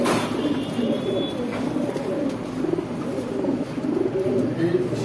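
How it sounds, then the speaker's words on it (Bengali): Pakistani female pigeons coo in a low, repeated, throaty rhythm, several birds overlapping at close range, with soft background noise and people talking faintly underneath. "সুন্দর কবুতরগুলা পাকিস্তানি, সবগুলো পাকিস্তানি মাদি"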